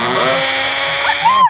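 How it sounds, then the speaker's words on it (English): An electric drill bores straight through a workpiece, a steady close mechanical whine that holds throughout and swells louder near the end. "I can drill."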